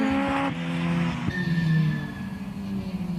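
Ford Escort race cars of two generations, one a Mark II, power loudly through a corner at Anglesey circuit, engines droning with tire squeal and skidding, no talk.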